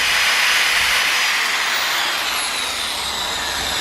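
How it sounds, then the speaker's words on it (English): A loud, steady high-pitched whine of a power drill boring out body rivets on a BMW E46 wing, continuous and close, with no talking. "So we're going to have to drill those out"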